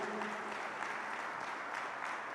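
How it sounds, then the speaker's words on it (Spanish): A church congregation at a Spanish-language service applauding, a steady, soft wash of clapping heard from a distance throughout. "Denle un fuerte aplauso al Señor."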